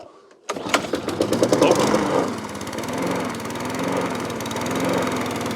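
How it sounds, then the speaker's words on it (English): A lawnmower engine catches after a pull-cord repair, sputtering into a rough, uneven idle following a sharp start, loud and close, then settling into a steady, slightly wavering drone. "a couple of pulls and your lawnmower will start"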